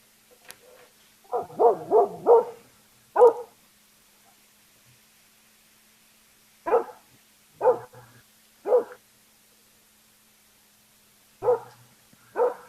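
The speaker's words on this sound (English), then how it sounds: "It's laying on the ground while this dog is barking at it." A dog barks at a wolf lying on the ground, heard through played-back video footage: a quick run of four barks, a louder single bark, then separate barks spaced a few seconds apart against near silence.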